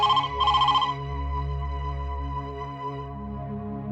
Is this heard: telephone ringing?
yes